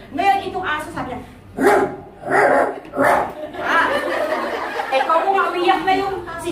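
A preacher's voice at a church service imitates a dog barking: three loud, bark-like bursts in quick succession, followed by continued excited vocalising.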